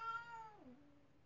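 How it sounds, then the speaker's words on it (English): A single short cat meow, clear and fairly faint, with a falling pitch and no other sounds around it. "Did you have to bring your cat with you?"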